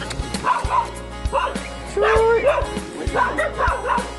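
An angry dog barks repeatedly in sharp, excited bursts, with some whimpering yips, close by and mixed with people talking.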